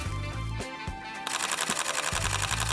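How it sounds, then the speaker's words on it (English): A Sony a6300 camera shutter fires a rapid burst at up to 11 frames per second, a fast mechanical rattle, pauses briefly, then resumes, close and crisp. "This camera can shoot up to 11 frames per second, and this sounds like this."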